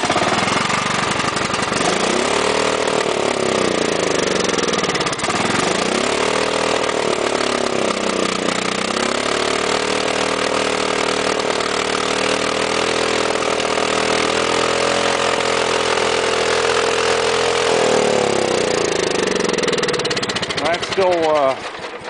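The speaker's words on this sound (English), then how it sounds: "That's still racing pretty heavy." A Craftsman lawn tractor engine races hard, a loud, steady close-up roar that surges and dips in pitch several times, running alone for over twenty seconds.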